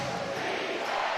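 Basketball arena crowd at an NBL game between the New Zealand Breakers and Perth Wildcats, a dense sustained roar of cheering from a large audience, loud and continuous for the whole moment with no clear voices standing out.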